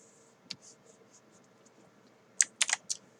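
Computer keyboard keys tapped while working in Cinema 4D, with a single click early on and then a quick cluster of four or five near, crisp keystrokes, ending with Enter, in an otherwise quiet room.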